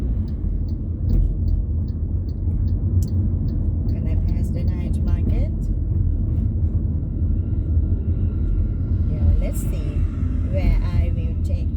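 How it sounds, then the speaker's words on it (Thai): A car drives into Udon Thani town at night, its low road rumble and engine hum steady throughout, with someone talking over it and faint passing traffic sounds. "we are driving into town of Udon Thani at the night time"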